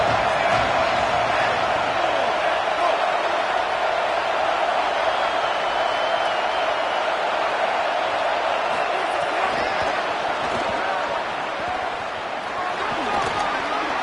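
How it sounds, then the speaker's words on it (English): Stadium crowd noise from the Madden 26 football video game, a steady loud roar of cheering that holds throughout, with a commentator's voice running over it. "This crowd knows this defense needs them right now."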